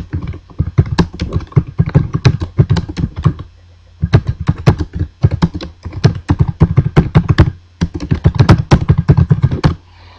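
Fingers type text into MS Word 2010 on a computer keyboard. The keys sound close and clear, falling in quick rapid bursts with short pauses between them.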